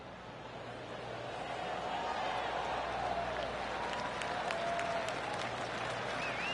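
Golf crowd applause in the PGA TOUR 2K23 video game, a steady, moderately loud spread of many hands clapping that sustains throughout, with faint whistle-like tones drifting over it.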